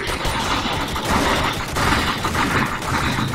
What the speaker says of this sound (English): Now he's shooting at me.